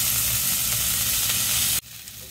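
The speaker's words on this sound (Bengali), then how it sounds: "এরকম করে ভেজে নিচ্ছি" A whole cauliflower fries in a pan with a loud, steady sizzle and crackle that runs for nearly two seconds, then suddenly drops to a much quieter hiss.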